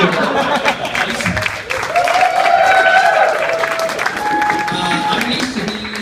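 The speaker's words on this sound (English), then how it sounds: "Let's give her a round of applause." An audience at a drag-queen roast bursts into sustained applause, dense clapping filling the room with a few whoops and scattered chuckles mixed in, loud and continuous for the whole stretch.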